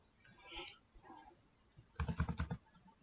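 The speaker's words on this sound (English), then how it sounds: "Just you need to press 3 times equal sign on your keyboard" A computer keyboard is tapped as the equal sign is typed three times, followed by a quick faint cluster of clicking keystrokes, close and quiet with no speech.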